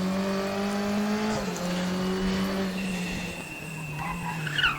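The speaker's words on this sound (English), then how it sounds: "now full throttle and then let the traction control do the work out of this corner" Turbocharged Volvo 240T race car in a simulated Macau circuit lap, engine roaring at full throttle with gear-shift drops in pitch and a brief tire squeal near the end.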